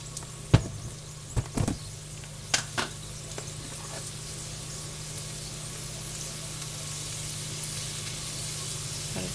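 Carrots sizzle in a pan on high heat with a steady hiss, broken early on by a few sharp clatters from stirring, then settling into an even frying sound.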